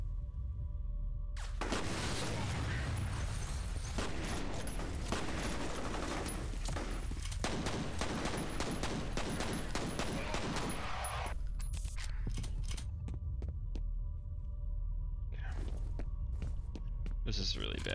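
Rapid bursts of gunfire in the shooter game F.E.A.R., aimed at barrels, crackling in dense volleys for about ten seconds before thinning to scattered sharp shots, with a player's voice talking over parts of it.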